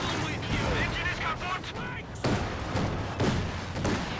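Gunfire and explosions from a Company of Heroes 2 match, with twin MG42 machine-gun positions holding a line, heard as dense, overlapping bursts and thumps under commentator talk.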